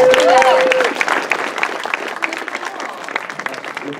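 Audience at a Grifball convention panel breaking into applause, a dense burst of clapping that starts over a brief voice and tapers off gradually across four seconds.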